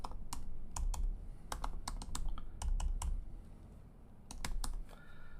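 Typing on a computer keyboard, with quick irregular clusters of crisp key clicks coming close and clear, without any talking.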